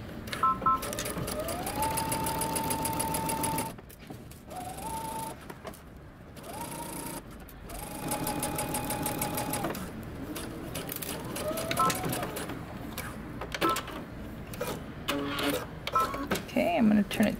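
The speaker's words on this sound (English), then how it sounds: "I'm literally going to stitch where my existing stitching is, joining both my pocket bags at the top." A sewing machine stitches through the pocket bags of a coat in several runs of steady whirring, stopping and restarting in short bursts with brief pauses, close and clear.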